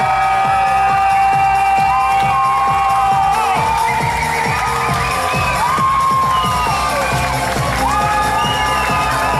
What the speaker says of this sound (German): Begrüßen wir mit einem kräftigen Applaus,